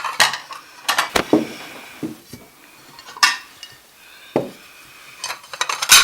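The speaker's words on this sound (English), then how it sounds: "I guess the next thing is to put some dishes on the table. We'll start with plates." Plates and other dishes set down one by one on a table, close ceramic clinks and knocks in an irregular rhythm with quiet pauses between, with no talking.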